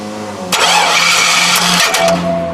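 A Chevy Suburban engine in theft mode cranks and catches with a loud broadband burst, stumbling and restarting briefly over a low steady hum, close by.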